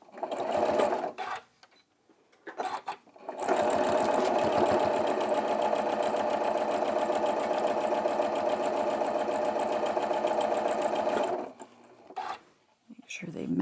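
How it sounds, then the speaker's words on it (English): Close, loud sewing machine steadily stitching Dresden Plate quilt block pieces, one long continuous run of about eight seconds, with short stretches of talking and handling before and after it. "Sew along, making sure to lock my threads at the beginning."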